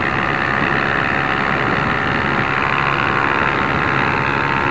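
A Honda CB 300 motorcycle riding on the BR 381 highway: a steady, dense engine drone mixed with rushing wind, loud and continuous with no pauses or speech.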